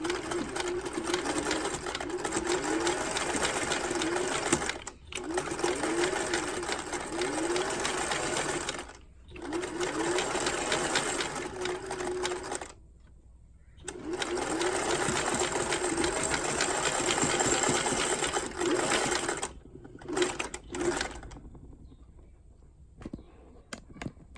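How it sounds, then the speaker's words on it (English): Sewing machine zigzag stitching along a fabric edge, running in long steady bursts with brief pauses between runs, close and loud, with no talking over it. "all I'm going to do is zigzag this edge here"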